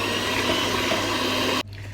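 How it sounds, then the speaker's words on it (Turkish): A steady high-pitched electric mixer whirs continuously, then cuts off abruptly, leaving quiet room noise. "Şimdi mikserle çırpacağım."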